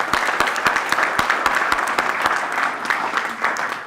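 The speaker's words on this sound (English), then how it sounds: "So I want to have you give yourself a big hand of applause." Guests at a school construction academy ribbon cutting clap together, a moderate crowd whose individual hand claps pop out sharply over a fuller patter, fading slightly toward the end.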